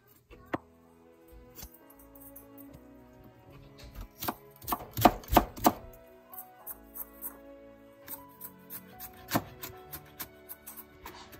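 A knife chops leeks finely on a board for seafood kottu, with sharp irregular taps that cluster into quick bursts, close up and mostly quiet between strokes.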